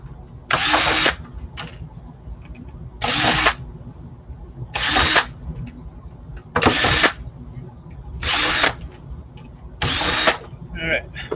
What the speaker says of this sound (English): We'll do the drill to make this quicker.